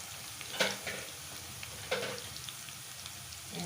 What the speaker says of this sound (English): So into this, I put in the crushed garlic, frozen crushed garlic.